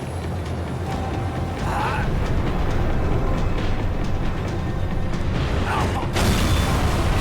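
A tram slowing down in the video game Max Payne 3, a dense rumbling mechanical roar with creaks and metallic scrapes, loud and continuous throughout, with no talk.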